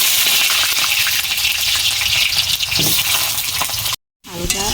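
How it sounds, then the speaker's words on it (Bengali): Potatoes fry in hot oil on a stove, a loud continuous sizzle and bubbling hiss, broken by a short silence before a voice briefly speaks. "তেল গরম হয়ে গেছে, আলুটা আমি লাল লাল করে ভেজে নেব।"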